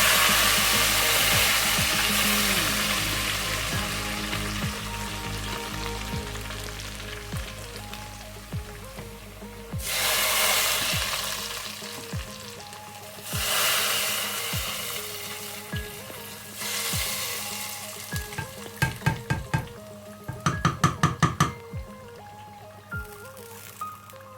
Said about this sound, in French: je vais prendre cette huile et verser dans du haricot